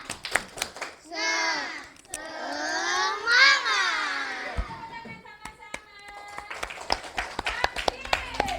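Primary schoolchildren in a classroom perform a clapping chant, their voices rising together in a sung phrase, then sharp rhythmic hand claps in quick bursts, with voices loud and close.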